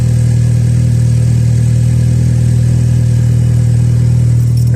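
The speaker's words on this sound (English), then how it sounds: "So I'm running up the car right now." A Volkswagen Golf Mk5 with the 2.0 FSI petrol engine runs at a steady idle during a minor service, giving a loud, constant low hum with no change in pitch throughout.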